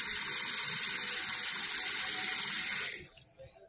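Water runs steadily into a bathroom sink fitted with a pop-up stopper, a close, continuous splashing hiss that cuts off abruptly near the end and leaves a few faint drips.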